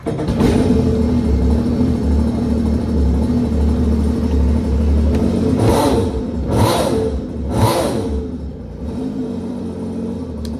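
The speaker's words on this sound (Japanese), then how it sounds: "ちょっとエンジンかけてみます。" The engine of an EX Deluxe in very good condition, with 1.7 hours of use, runs with a steady, loud rumble throughout. Three short, sharp revs rise over the idle in the second half, with no talking.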